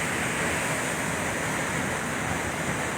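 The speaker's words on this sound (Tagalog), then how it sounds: "Grabe. Lakas ng agos oh." A strong, cold river current rushes loudly and steadily at a scenic swimming spot in Oriental Mindoro. The broadband roar is close and continuous, with no pauses or talk.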